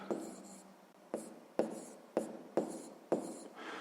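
Pen strokes writing out a sixth-grade math calculation on paper, several distinct scratchy strokes in an uneven rhythm, close and fairly quiet, with no talk.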